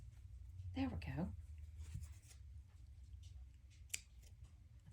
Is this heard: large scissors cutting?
yes